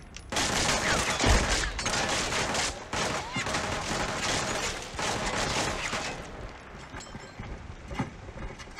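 Gunfire from a mounted gun in Killzone Shadow Fall bursts out as loud, rapid, sustained volleys for about six seconds, then dies down to sporadic shots and ambient game noise.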